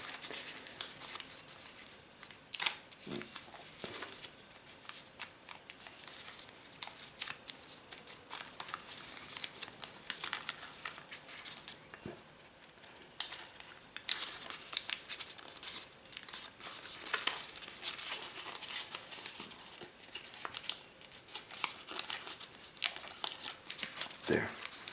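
Paper being folded and collapsed into an origami Goliath beetle, giving soft intermittent crinkling and rustling with occasional sharper creases across the whole stretch, close and fairly quiet, with no voices.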